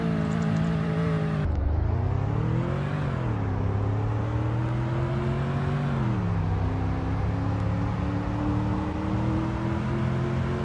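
Engine of a car in the Roblox game Greenville revving and accelerating, the pitch climbing in steps through gear changes, then dropping as it brakes, with a steady loud motor drone throughout and no talk.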